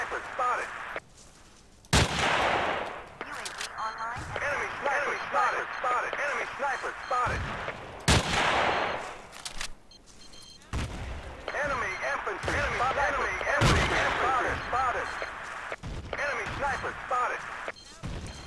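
Grenade explosions in the Battlefield 2 video game: several sharp, heavy blasts scattered among ongoing gunfire and radio chatter, loud and close, with someone talking over parts of it.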